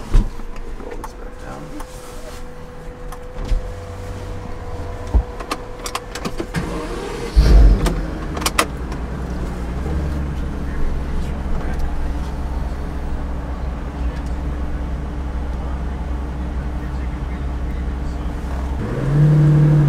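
A Pagani car engine revs up and accelerates nearby, a steady motor drone with a sharp surge midway, while other vehicle hum continues.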